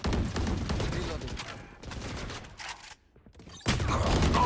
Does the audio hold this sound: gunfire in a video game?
yes